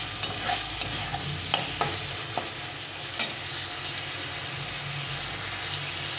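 Boiled potatoes and tomato sautéing in a pan while being stirred, giving a low steady sizzle with a few sharp scrapes and clinks of the spoon against the pan, close and fairly quiet, no talk.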